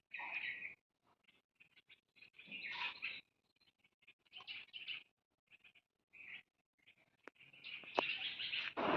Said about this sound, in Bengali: পাখি সব করে রব রাতি পোহাইলে